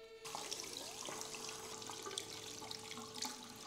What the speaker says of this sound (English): we might need to rinse this thing under the tap.